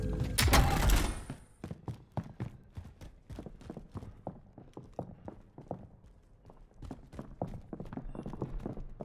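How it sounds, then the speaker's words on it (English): Video game footsteps land in a quick, steady rhythm that keeps going through the whole stretch, after a loud, noisy burst at the start. "Hear footsteps in here."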